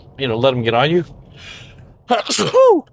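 A single short sneeze bursts out between stretches of a man's conversational speech, softer and briefer than the talking around it.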